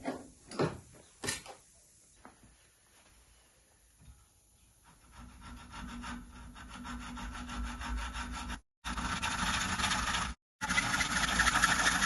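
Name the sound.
sawing an inch off a Honda Super Cub C125 stand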